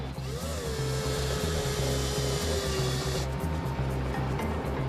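A drill bores steadily into a hidden concealed compartment during a customs search for smuggled goods, a continuous loud motor whine with a grinding edge that runs unbroken, shifting in tone about two-thirds of the way through.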